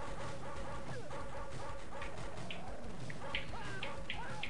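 A dog barks and yips in the arcade video game NARC, small clipped barks among gunfire and game effects, fairly faint beneath a steady music bed.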